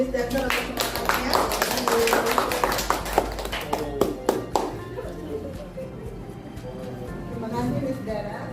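Scattered clapping from a small group, brisk and uneven, fading after a few seconds as a quieter room tone remains, with voices mixed in.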